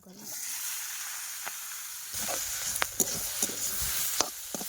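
Spring onion stalks drop into a hot pan over a fierce fire, raising a steady broad sizzle with scattered sharp crackles and utensil clicks, close and moderately loud.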